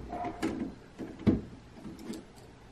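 Drawers are pulled and pushed in an abandoned mansion, a few soft sliding scrapes and wooden thuds at irregular intervals, the firmest knock near the middle, heard close in a quiet room.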